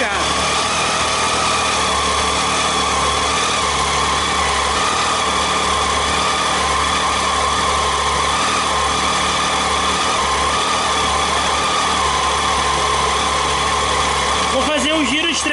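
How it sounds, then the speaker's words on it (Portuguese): A Triumph Tiger 800 XCA motorcycle idles steadily up close, its engine a constant even hum for the whole stretch, with a brief clunk or handling noise near the end. "Moto ligada."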